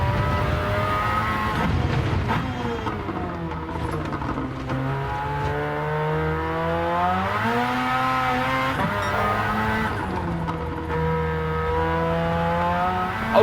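A rotary-engine race car in Gran Turismo 7 screams loudly and continuously as its revs climb and fall through the gears. The high whine rises and dips with shifts and cornering, with faint tire squeal and no talking.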